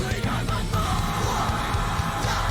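A harsh, sustained metal vocal scream rides over dense distorted guitars and pounding drums, loud and continuous throughout.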